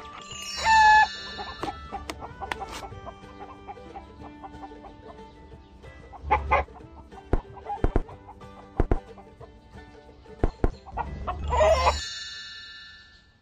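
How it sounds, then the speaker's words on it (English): Chicken clucking played by an augmented-reality book app for The Boxcar Children, with a loud burst at the start, sparse clucks through the middle and a louder cluster near the end. "Let's see if the chicken left anything behind."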